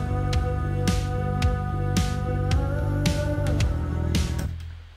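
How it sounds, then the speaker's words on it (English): A song mix of punchy drums, a bass line and vocals plays on its own for about five seconds, with regular kick and snare hits driving a steady groove before it cuts off. "So that with the drums and with the bass line sounds like this."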